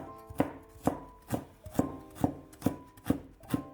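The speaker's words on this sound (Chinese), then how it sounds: "1块生姜先切成薄片，再切成细丝" A knife chops a piece of ginger into thin strips on a board, eight crisp evenly spaced strokes at a steady rhythm, close and clear with no talking.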